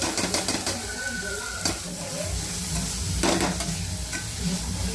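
Paneer tossed with turmeric, garam masala and red chili powder sizzles in a pan for bhurji, a constant near hiss with spatula scrapes and a few sharp clanks, no talking.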